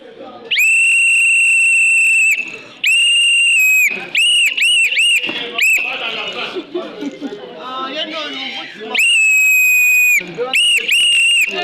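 Loud, shrill whistle blasts repeat, some long and steady, others short and choppy, with a stretch of muffled chatter in the middle.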